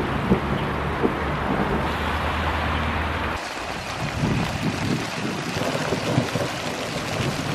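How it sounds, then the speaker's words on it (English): Large raindrops fall during a thunderstorm as a dense, steady hiss of rain, with scattered sharper splats standing out close by throughout and no one speaking. "Oh my god, the size of these raindrops. They are huge."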